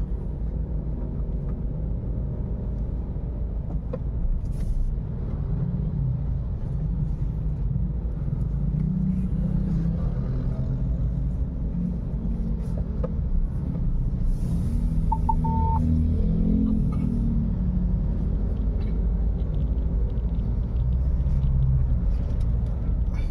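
A motorized tricycle engine rumbles along a Philippine street in steady, continuous low drone. It stays fairly close throughout, with faint background noise.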